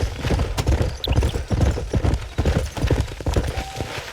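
Horse hooves clip-clop at a steady walking rhythm in the New Austin setting of the Red Dead Redemption video game, loud and close with no clear talk.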